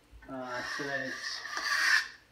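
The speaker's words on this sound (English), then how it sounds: "get all the mud off that I can. And I'm gonna feather it in" A drywall knife scrapes across fresh joint compound on a small garage wall patch, with pressure on the outer edge to feather it thin; two or three close rasping strokes, the last one longer and harsher.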